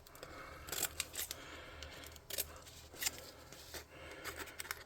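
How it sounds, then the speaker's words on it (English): Scissors snip the corners of craft material for tabletop hover car junkyard scatter, giving several quick, crisp cuts in uneven bursts, close up and fairly soft against a quiet room. "I'm going to snip those corners in like I did on the other part."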